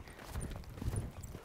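Horse hooves drum on arena ground during a barrel racing run, a quick uneven series of heavy close thuds with no talking.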